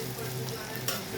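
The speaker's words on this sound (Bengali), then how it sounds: "আর ক্যাপসিকাম পেঁয়াজ এই ভাজা হয়ে গেল" Capsicum and onion frying in a pan, a brief close sizzle with a soft stir or scrape partway through.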